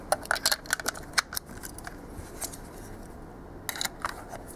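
A Leica M3 DS double-stroke camera shutter fires repeatedly at close range, a quick run of crisp mechanical clicks, then a pause, then another short burst of clicks.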